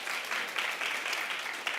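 A television talk show studio audience applauds steadily, a dense wash of many hands clapping at once for a couple of seconds.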